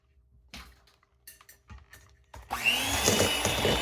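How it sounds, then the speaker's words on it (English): Butter, white sugar and brown sugar mixed by hand in a bowl: sparse soft scrapes and taps that build into a continuous gritty stirring and scraping, close and moderately quiet. "I'm just going to mix it by hand."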